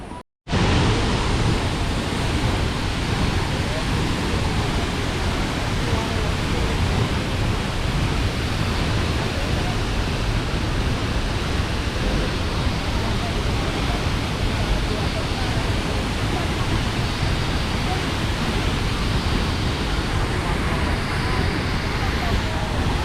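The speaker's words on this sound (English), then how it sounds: "Down to the waterfall." La Fortuna waterfall in Costa Rica rushes in a loud, constant roar that fills the whole stretch after a brief quiet start, with tourists swimming below.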